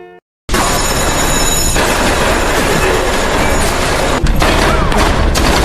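Gunfire in a war film scene as North Korean soldiers attack, a dense, loud, continuous barrage of rapid shots and clatter that bursts in after a short quiet start, with a few sharper blasts near the end.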